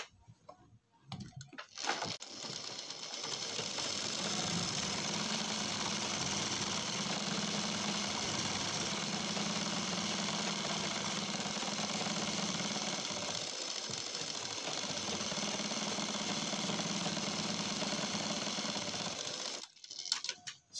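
Sewing machine stitching frill sleeves: a long, steady motorized whir with rapid needle chatter running nearly twenty seconds without pause, preceded and followed by brief fabric handling noises.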